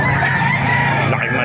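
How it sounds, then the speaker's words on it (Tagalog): A rooster at the Bocaue market crows loudly and close, one sustained harsh call with a wavering pitch filling the whole moment. "Laki manok ito."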